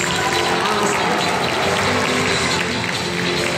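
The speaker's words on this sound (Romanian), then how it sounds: "Eu zic să încurajați cu aplauze pe cencen ca să numerească coșul." A crowd at a dolphin show applauds steadily and loudly for a dolphin named Cencen, a dense wash of clapping with no pauses.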